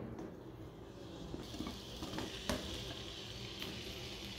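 Sliced raw potatoes fry in hot mustard oil in a pan, giving a continuous soft sizzle with occasional stirring clinks, heard close but fairly quiet.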